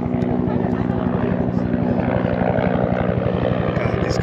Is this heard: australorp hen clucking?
no